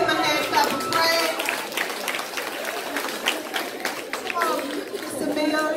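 A school audience at a parent appreciation day bursts into sustained applause, dense hand clapping mixed with chatter and children's voices, loud and close throughout.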